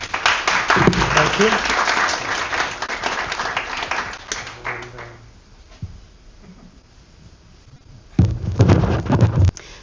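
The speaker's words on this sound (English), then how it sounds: "Please give him another applause." Audience applause at an art event after a poem reading, loud and dense at first, fading out midway, then rising again near the end; a voice speaks briefly as the clapping dies down.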